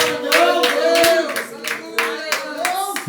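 A church congregation claps steadily and loudly in a dense, uneven patter of many hands during worship, with voices rising and shouting under the clapping.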